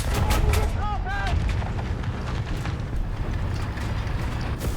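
Howitzer fire in War Thunder from a StuH 42 G assault gun: loud booming artillery shots and gunfire crack in the first second over a dense, continuous rumble of battle noise.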